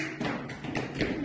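Preschool children clap their hands together in a short, rhythmic run of claps, loud and close in a classroom, with little talking.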